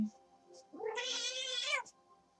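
A pet cat lets out one drawn-out, insistent meow, close and fairly quiet, with a faint tonal hum underneath and no talking.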